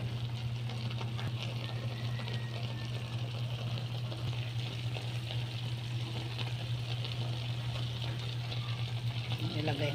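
A pot of paksiw fish stew made with bream simmers on the stove, giving a steady, low bubbling hiss over a constant hum that continues unchanged throughout.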